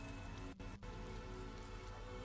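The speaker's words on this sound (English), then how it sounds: "It's raining." Steady, dense rain falls in the video game Rain Code, a continuous even hiss broken by two very brief dropouts.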